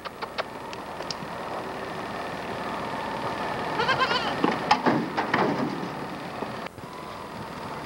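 Goat bleating on a 1970s visit to Hatillo, Puerto Rico, a few wavering bleats in the middle over steady outdoor background noise with faint scattered sounds.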